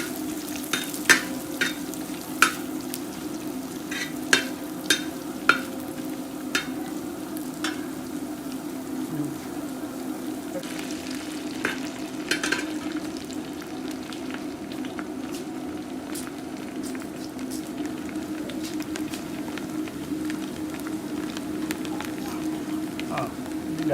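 Coconut pieces and dried red chillies frying in a pan, a steady low sizzle running throughout with a few sharp pops and clinks early on, heard close and without talk.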